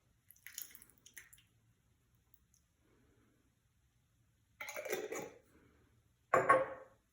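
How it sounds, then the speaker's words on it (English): A whole jar of salsa emptied into venison chili in a Dutch oven, wet squishy glops and drips in a few separate bursts with quiet gaps between, close and moderately soft. "The next thing that you want to do is add a whole jar of salsa."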